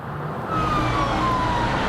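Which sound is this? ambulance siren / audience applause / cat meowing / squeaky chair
ambulance siren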